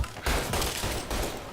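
Gunfire in the video game Mafia: Definitive Edition comes in two quick, dense bursts of shots with a brief gap between them, loud and with no voices.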